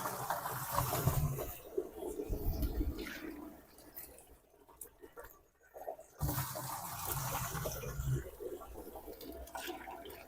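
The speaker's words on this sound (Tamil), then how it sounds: "இன்றைக்கி நம்ம வீட்டில் கிடைச்ச கழிவுகளோட தண்ணியை வந்து இதில் ஃபுல்லாக ஊற்றியாச்சு" Kitchen waste water pours and splashes into a garden drum on a terrace, a continuous gushing stream that eases briefly midway before resuming.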